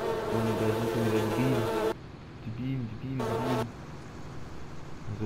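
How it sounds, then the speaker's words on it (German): Bees buzzing loudly and close by in the farming game Landwirtschafts-Simulator 19, a wavering drone that cuts out and returns, with a voice talking over it. "Bienen sind mir ganz schön laut."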